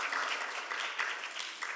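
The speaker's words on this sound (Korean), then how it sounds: "여러분 박수로 환영해 주시기 바랍니다" A church congregation claps to welcome visiting members during a Sunday worship service, a soft, fairly distant patter of many hands sustained for a brief stretch.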